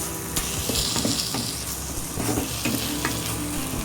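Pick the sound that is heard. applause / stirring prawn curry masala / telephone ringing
stirring prawn curry masala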